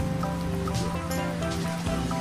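Steady rain patters down on surfaces, a constant wash of noise with faint background sounds mixed in.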